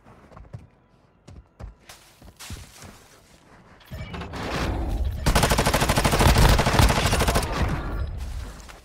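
Loud, sustained gunfire from a Warzone Mobile match, starting with scattered single shots and then building into dense rapid bursts that carry through to the end.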